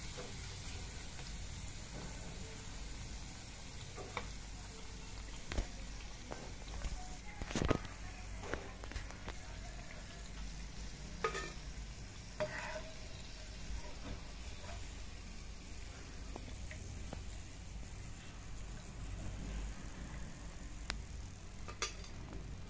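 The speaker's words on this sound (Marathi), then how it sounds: "आपण आता बाकीचे पण असे छान तळून घेऊयात" Cabbage bhaji fritters sizzle steadily in hot oil, a continuous fizzing hiss with a few brief clatters and a faint voice under it.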